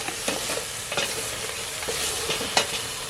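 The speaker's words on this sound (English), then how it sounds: "Now they're probably seared enough." Lamb shanks sear in a hot pan with a steady, close sizzle and a few light scrapes and knocks as they are moved, no voices.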